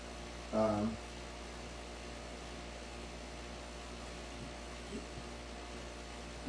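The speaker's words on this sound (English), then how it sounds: "I'm sorry about the noise, guys. I didn't realize that my air conditioner was still on." Steady low hum of a room air conditioner left running indoors, holding level throughout at a faint, constant drone, with a brief louder burst near the start and a small knock later on.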